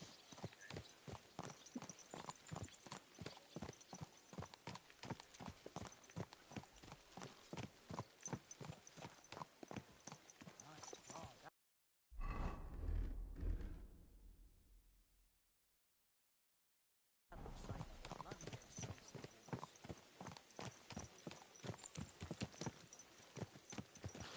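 Steady, rhythmic hoofbeats of a horse clip-clopping at a walk in the video game Kingdom Come: Deliverance II, crisp and close, briefly cutting out partway before resuming at the same pace.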